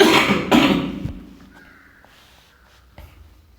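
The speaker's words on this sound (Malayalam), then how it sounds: "ചുമ ഉണ്ട് കേട്ടോ" Two harsh coughs close together sound loud and close at the start, then fade into a quiet room with faint clicks.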